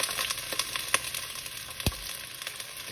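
Carrots, onions and serrano peppers fry in a pan with a steady, close sizzle. A few sharp clicks and scrapes of stirring break through, with no voices.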